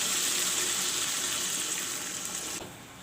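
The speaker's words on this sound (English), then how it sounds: "now I will put in little bit water" Water pours steadily into a cooking pan of stuffed parval with chopped tomatoes and salt, a close, continuous splashing stream for about two and a half seconds before it tapers off.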